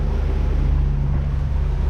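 A boat's port engine idles with a steady low drone and tonal hum, heard close, mixed with wind and water noise.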